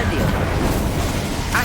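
Confringo and Incendio fire spells blasting in the Hogwarts Legacy video game, a loud, dense rumbling burst that fills the short moment, with a voice calling out over it.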